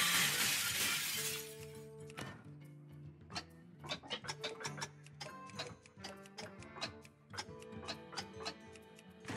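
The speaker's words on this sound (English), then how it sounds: "The glass gotta break." Glass shatters in the Hearthstone video game: a bright, crashing burst opens the clip, followed by a run of tinkling, ticking chimes and clinking game effects that continue steadily to the end.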